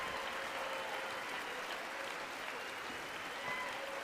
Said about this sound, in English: Not one Republican clapping.